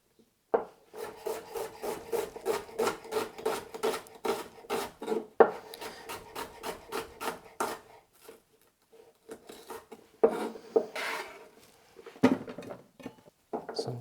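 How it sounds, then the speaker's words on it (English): A knife chops onion on a wooden cutting board in a home kitchen, a rapid run of crisp, close, regular chops, a brief pause, then a few more scattered cuts. "I'm just gonna cut up some onion to go with the stir fry"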